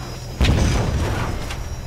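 A tank cannon fires in Ghost Recon Advanced Warfighter 2, a single sudden heavy boom followed by a sustained low rumble that lingers without fading much.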